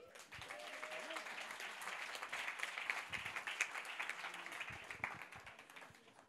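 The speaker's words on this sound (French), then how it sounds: "vous pouvez les applaudir, vous avez raison." Faint, distant audience applause at a round-table discussion about eco-communities, with rapid, even clapping from many people sustained for several seconds while voices carry through underneath.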